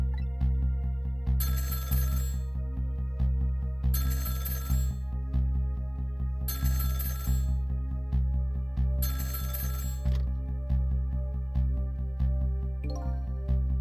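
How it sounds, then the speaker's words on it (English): A telephone rings in the Ghost Trick: Phantom Detective video game, four evenly spaced bright electronic rings over a steady musical background, clear and prominent, with a short chime at the end. "About 2 hours before dawn, the phone rang."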